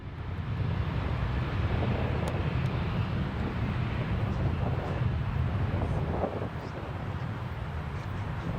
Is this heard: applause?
no